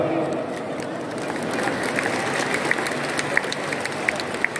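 An audience at a Golkar party witness briefing in Blora claps steadily for several seconds, a dense wash of applause with a few sharper individual claps standing out.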